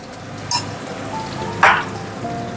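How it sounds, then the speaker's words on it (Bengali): Potatoes frying in oil with salt in a pan, a soft steady sizzle punctuated by two sharp crackling spits, close and moderately loud, with no voices. "লবণ দিয়ে আলুটা ভেজে নেব"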